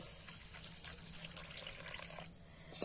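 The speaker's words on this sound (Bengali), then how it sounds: "এবারে ওই বাটিতেই কিন্তু আমি একটু জল দিয়ে দেব।" Water is poured into a bowl of sugar while making thekua, a quiet, steady trickle and splash with faint clinks and no talking.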